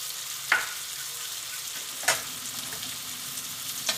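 Onion, curry leaves, garlic and ginger sizzle gently in a pan. The soft, continuous frying hiss is broken by a few scraping stirs, and no one speaks.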